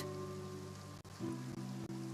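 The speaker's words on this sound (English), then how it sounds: "It often rains on days where there are trials being held in the Opera House, but don't worry, it'll clear up soon enough." Steady rain falls in the video game Genshin Impact, a continuous hiss laid over sustained tonal music with brief dropouts, no voices.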